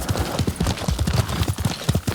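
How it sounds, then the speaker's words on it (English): Horse hooves clip-clop at a steady walking rhythm in the video game Ghost of Tsushima, a close, even run of hoof strikes with no talking. "Yuriko's horse. She can't be far."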